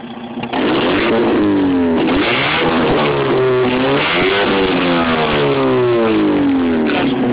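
A car with its exhaust lost and missing its end revs hard and raw, engine rising and falling in repeated throttle blips, loud and close with a rough, unmuffled roar.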